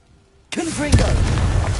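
A Confringo fire spell cast in Hogwarts Legacy: after a moment of near silence, a sudden loud whooshing blast erupts close by, with a second sharp impact just after and a rumbling crackle trailing off. A voice sounds briefly over the burst.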